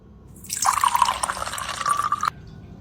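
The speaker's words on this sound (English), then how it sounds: "Now pour some water into a bowl." Water pours into a bowl in a steady splashing stream with a rising filling tone. The stream runs for nearly two seconds, then stops abruptly. It is close and clear, with no voices.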